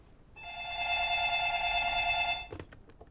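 A telephone bell rings indoors in one sustained two-second burst, clear and moderately loud, then stops, followed by brief handling clicks.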